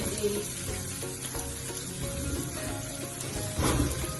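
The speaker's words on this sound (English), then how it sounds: "Put in the onion." Chopped onion frying in a pan for a slow-cooked lamb ragu: a steady close sizzle with soft crackle, swelling briefly as the pieces are stirred.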